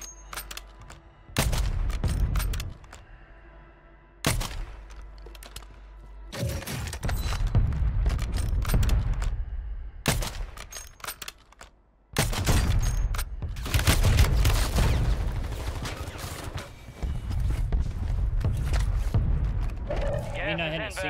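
Kar98k bolt-action rifle shots in the Warzone video game: several loud, widely spaced booming shots, each with a long, rolling tail that fills the gaps between firings.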